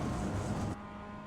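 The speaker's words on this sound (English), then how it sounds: "Hear the throttle pick up as we unwind." A race car at Lime Rock Park picks up throttle on track, its engine a steady close drone under wind noise that drops abruptly to a quieter hum partway through.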